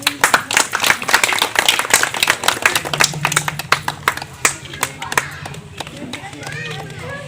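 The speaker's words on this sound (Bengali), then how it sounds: "আপনারা সবাই একটু হাততালি দেবেন জোরে।" An audience claps at a neighbourhood women's prize ceremony in Chakdah, with sharp, uneven handclaps that thin out over several seconds while voices talk over them.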